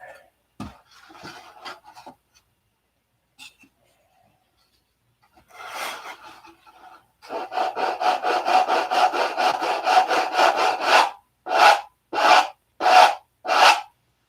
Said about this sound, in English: So it doesn't fit there, so I gotta sand it.